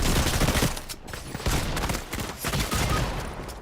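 Dense video game gunfire rattles in continuous volleys of rapid shots, loud and close, with no pauses across the few seconds.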